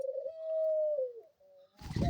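A pet dove gives a soft, sustained coo with a falling pitch, close and alone, before a burst of fluttering wings at the end.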